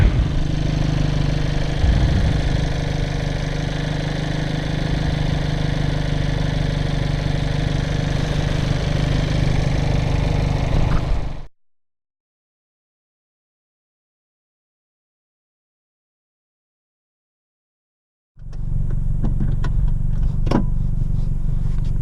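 Hyundai Veloster N fitted with an SXTH Element cold air intake, its engine droning steadily and loudly for about eleven seconds, cutting to silence, then resuming near the end.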